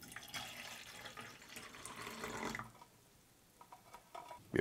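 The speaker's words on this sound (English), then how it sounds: "Add some water." About 8 ounces of water pouring into a glass of citrus orange drink mix, a steady close splashing stream for over two seconds that stops, followed by quiet small clinks.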